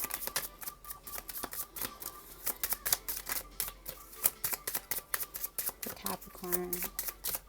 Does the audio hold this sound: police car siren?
no